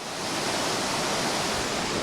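Rushing water pours through a drainage culvert pipe marking the boundary between neighborhoods in Cuiabá, a loud, dense, steady roar that fills the clip without pause.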